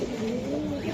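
A large giribaz pigeon gives a close, low, throaty coo, a single warbling call held through the whole brief moment.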